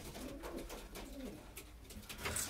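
Pigeons coo softly and repeatedly in a loft, low rolling calls overlapping one another at close range with faint background rustle.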